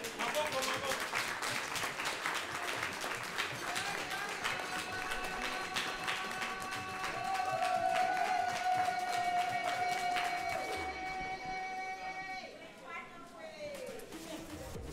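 Wedding guests applaud the couple at a reception in Cape Town, a sustained wash of crowd clapping that goes on for the length of the clip, with a sustained musical tone rising and falling over it.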